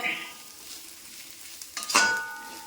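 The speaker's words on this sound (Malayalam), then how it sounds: "നമ്മൾ സവാളയും പിന്നെ ഇഞ്ചിയും വെളുത്തുള്ളിയൊക്കെ അങ്ങ് മൂത്ത് വെന്തട്ടേ ഉള്ളൂ" Onion, ginger and garlic fry in a pan for a chicken dish, making a soft, steady sizzle that builds into a louder hiss and clatter near the end, close and with no talking.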